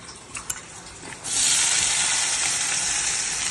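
Onions hit a hot wok still oily from frying dried Bombay duck, bursting into a loud, steady sizzle after a brief quieter start with small clatters.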